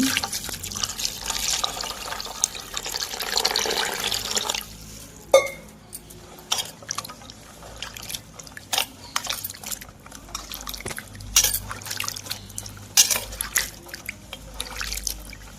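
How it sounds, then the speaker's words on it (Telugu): Coconut pieces are rinsed under a running kitchen tap, a steady stream at first, then scattered drips and splashes as the pieces are handled in water, with no talking. "కొబ్బరిని శుభ్రంగా కడిగేద్దామని చెప్పి ముక్కల్ని"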